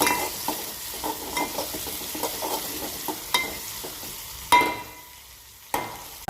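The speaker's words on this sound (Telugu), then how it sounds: "వేసిన తర్వాత ఇది కొంచెం గోలేంత వరకు అయితే ఇలా మాడిపోకుండా కలుపుకోవాలి." Onions, green chillies, coriander and curry leaves frying in a pan while being stirred, a low steady sizzle with light rhythmic scraping and a few louder clanks of the spoon.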